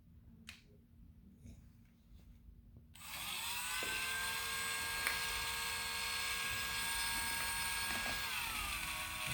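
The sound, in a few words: Dremel rotary tool running near dog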